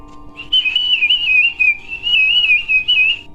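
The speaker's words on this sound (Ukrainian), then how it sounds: "Це глиняна свистулька, музичний такий інструмент." A clay whistle plays a bright, wavering tone. Several sustained notes with small pitch slides are played alone, close and fairly loud.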